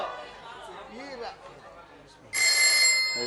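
A telephone bell starts ringing loudly partway through, a bright sustained ring breaking in after murmured voices and chatter in a stage drama scene.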